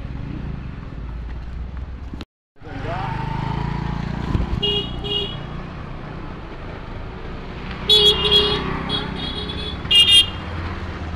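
Heavy traffic on a village road near a Ganpati temple on a busy festival day, with vehicles rumbling past continuously, a brief cut, then high horn toots.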